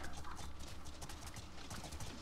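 A horse gallops in a jousting video game, its hooves making rapid, even clip-clop beats that stay fairly faint and run steadily throughout with no voices.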